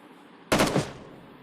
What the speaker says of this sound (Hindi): पीछे से फायर होता है।